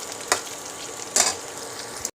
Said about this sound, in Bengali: দুটো ডিম ভেজে ঝিরিঝিরি ঝিরিঝিরি করে নিচ্ছি